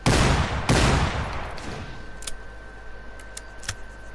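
Two sharp gunshots from a weapon in a Dreams custom zombies game ring out close and loud near the start, followed by a string of fainter clicks and metallic ticks as the sound fades.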